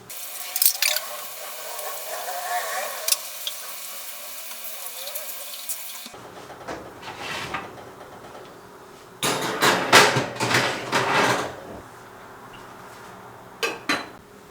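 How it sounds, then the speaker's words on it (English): Dishes being washed in a home kitchen sink: tap water running, then clattering plates, pots and cutlery knocking in bursts, close and fairly loud. "now I'm gonna wash dishes"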